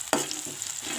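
Onions frying in a pan for a vegetable dish, a close steady sizzle with a brief stirring scrape near the start.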